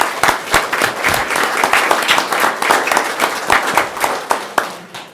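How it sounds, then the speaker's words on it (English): Loud, close audience applause in a county board meeting room, honoring sheriff's office staff, with distinct individual claps popping out of a steady burst of clapping that runs the whole time. "Please give them a round of applause."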